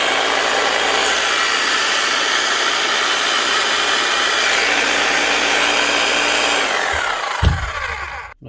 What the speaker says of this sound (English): Now we know the motor still works